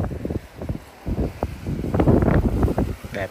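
Strong sea wind buffets the microphone at a fishing port in Tainan, Taiwan, with continuous low rumbling gusts that swell and fall, and bursts of nearby talk mixed in.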